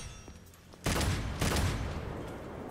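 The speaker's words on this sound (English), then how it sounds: "That charge shot? Freaking Blue Rose has a lot more oomph." The Blue Rose revolver's charge shot in Devil May Cry 5 lands as a sudden heavy blast followed by a second boom, each trailing into a long rumbling decay among game effects.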